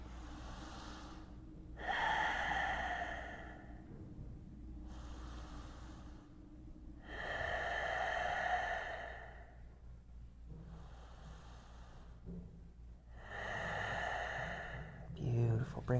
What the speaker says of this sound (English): 3 more breaths.